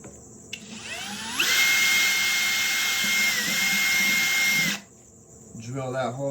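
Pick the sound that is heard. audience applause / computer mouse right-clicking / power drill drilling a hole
power drill drilling a hole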